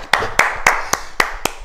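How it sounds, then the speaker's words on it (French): Six sharp, evenly spaced claps ring out close by at a French fitness session, a brief rhythmic burst of hand claps with quiet gaps between them. "S'applaudit."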